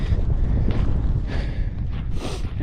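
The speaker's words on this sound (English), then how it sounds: "Still pretty windy" Steady gusting wind buffets the microphone in a low, rumbling roar on the Northwest Slope of Pikes Peak, with a few brief airy swells.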